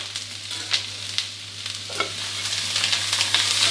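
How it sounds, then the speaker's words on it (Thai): Broccoli and shrimp stir-frying in hot oil, a continuous close sizzle with intermittent scraping stirs, no talking. "ผัดให้บล็อกโคลี่โดนกับน้ำมันร้อนๆสักครู่เดียวนะครับ"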